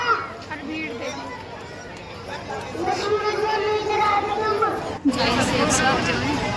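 Dense crowd chatter at a busy mela pilgrimage, a steady babble of many voices close around with a brief dip near the five-second mark before the hubbub swells again.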